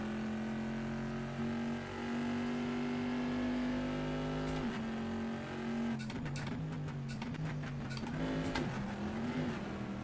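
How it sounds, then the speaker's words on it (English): A Corvette C7R race car at Watkins Glen in Assetto Corsa holds a steady loud engine drone, then blips and downshifts with the revs jumping and stepping through gears, close and alone with no talk. "That was a downshift I didn't need"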